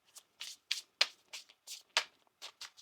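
Tarot cards being shuffled by hand in a quiet room, a run of about ten crisp, papery riffling bursts in an uneven rhythm, close and clear with no voices.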